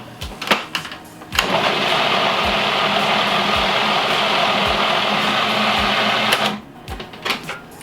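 Food processor blending hummus, a steady loud motor whir running for about five seconds after a few short clicks and bumps, then stopping, with more light knocks afterward.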